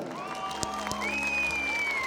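An audience at a nighttime mela program in Banikhet claps for about two seconds, a steady mid-level patter of hands sitting beneath sustained tonal sounds from the stage sound system.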